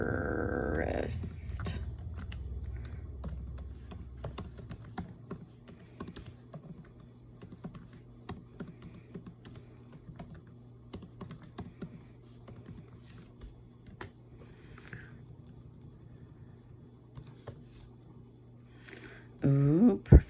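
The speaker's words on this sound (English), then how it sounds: "Professor Haney typed it wrong." Typing on a computer keyboard, a run of light, irregular key clicks at moderate distance, starting after a brief sound at the beginning, with a louder burst near the end.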